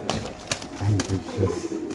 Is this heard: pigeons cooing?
yes